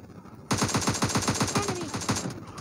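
Rapid automatic gunfire in a battle royale shooter, a sudden loud burst of about fourteen evenly spaced shots in quick rhythm lasting around two seconds after a quiet start.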